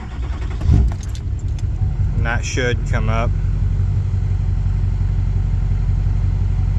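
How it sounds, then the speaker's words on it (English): A diesel pickup truck fitted with an EGT probe cranks over with keys jangling, then settles into a steady low idle that runs to the end, with someone talking briefly early on. "Let's start truck."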